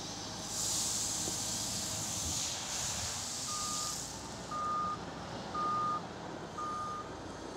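A Volvo wheel loader works while loading a truck, a hissing hydraulic and engine wash with four evenly spaced reversing beeps sounding in the second half, moderately near and without speech.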